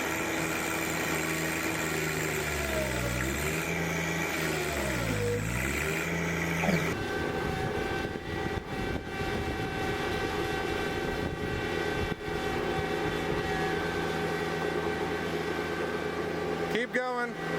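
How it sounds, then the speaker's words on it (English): A John Deere tractor engine labours and bogs down while straining to pull a loaded trailer up onto cement, a loud continuous low drone with pitch dips, with another engine rumbling afterward. "Even after giving it another go, the John Deere bogs out before it can get the trailer into the cement."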